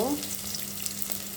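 Onion, garlic, green chili and bay leaf sizzling in hot oil in a pan for pulao, a steady close crackle with a brief clink at the start and no talking.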